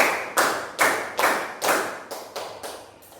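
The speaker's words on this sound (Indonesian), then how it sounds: "Tepuk 1, tepuk 2, tepuk 3, tepuk 4, tepuk 5." Children in a classroom clapping a counting chant, eight sharp unison claps in a steady rhythm, each one bright and close, growing slightly softer toward the end.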